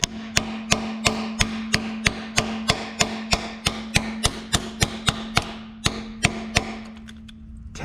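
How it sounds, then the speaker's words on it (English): A socket on an extension is tapped to drive freeze plugs into a 1965 Mustang engine block, about twenty sharp, evenly spaced metallic taps with a faint ring, close and clear. "I'm just gonna do the old fashioned way with a socket and an extension"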